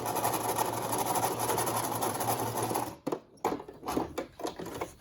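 A sewing machine stitches ribbon onto a fabric child's face mask, a fast, steady mechanical whir for about three seconds that stops abruptly, followed by a few short bursts of stitching and handling noises, close and loud.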